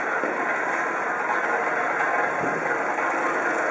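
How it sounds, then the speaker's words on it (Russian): A Citroen C's EW10AF petrol engine with manual gearbox idles steadily, a smooth, even hum held at constant level throughout with no talking. "Двигатель на холостых работает красиво"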